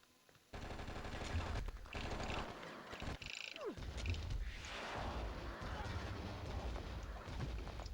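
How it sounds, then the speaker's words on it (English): The scram cannon in the video game Oni fires in dense, continuous blasts and crackling explosions, loud and sustained for several seconds after a quiet start, with a brief voice mixed in. "We're gonna attempt to shoot them a little bit with the scram cannon."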